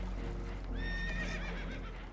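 Spooked horses in Red Dead Redemption 2 let out loud, shrill whinnies over a low rumbling background, with hoof clip-clop mixed in.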